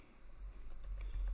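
Quick, soft keystrokes on a computer keyboard as an address is typed in, a short faint run of clicks with no voice.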